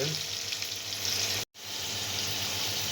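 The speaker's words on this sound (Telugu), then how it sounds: "ఉల్లిగడ్డలు, పచ్చిమిరపకాయలు, అల్లం దీంట్లో ఉంది మొత్తం వేసుకున్నాం ఫ్రెండ్స్." Onions, green chillies and ginger fry in a pan with a steady, close, hissing sizzle that runs throughout, broken only by a brief silent gap midway.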